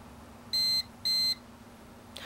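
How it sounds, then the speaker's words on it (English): Two identical electronic beeps from a YourStory photo heating device signaling it is done, evenly spaced, each about a quarter second long, over a quiet background. "our YourStory photo has beeped"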